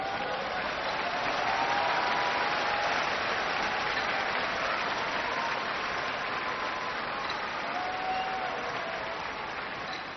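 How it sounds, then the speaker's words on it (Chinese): Sustained applause from a large audience fills the space, a dense, even wash of clapping that continues without pause. "观众便热情地为我鼓掌喝彩，为我助威"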